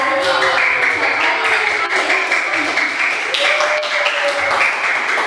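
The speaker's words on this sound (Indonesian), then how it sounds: "Tepuk tangan untuk Pak Arfi karena ini yang terakhir ya" Applause fills a meeting room at a leadership and resource-management session, sustained and even throughout, with a faint tonal ring running underneath.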